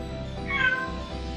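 A single close, clear cat meow rises over a steady low background hum, brief and distinct, with no voices.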